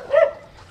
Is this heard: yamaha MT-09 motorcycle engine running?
no